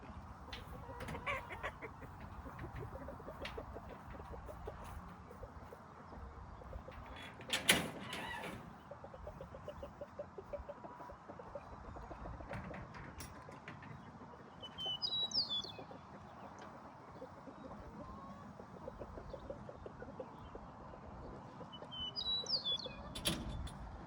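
Hens clucking around a chicken coop, soft intermittent clucks and a few sharper calls over steady farmyard background, with a louder burst near the middle and brief chirpy calls later.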